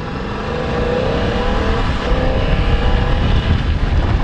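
BMW F900 XR motorcycle engine running steadily and fairly loud, a continuous rough drone with a slight rise in revs partway through and no voices.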